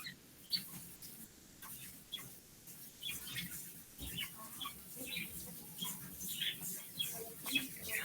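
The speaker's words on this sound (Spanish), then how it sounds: "Qué bonitos se escuchan los pollitos o los pajaritos que tienen por ahí." Faint, high chirps from small birds or chicks come in scattered bursts over a quiet background hiss, distant and soft.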